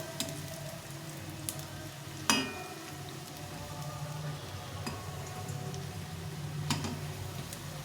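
Oil sizzles steadily as coriander-leaf fritters fry, with occasional sharp ticks and pops over the constant crackle.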